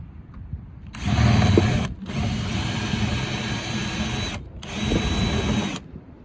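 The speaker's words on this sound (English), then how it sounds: "Basically just going to go around the whole boat, drill all of them out" A power drill whines in three sustained bursts separated by brief pauses, loud and close, with grinding as the bit bores out metal rivets on a boat's rub rail.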